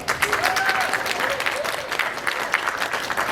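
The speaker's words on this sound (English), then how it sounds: "give it a round of applause if you want magic user number 1 in our party" Audience at a Fan Expo Chicago improv Dungeons & Dragons show clapping steadily and fairly loudly throughout, with scattered cheers and voices mixed into the applause.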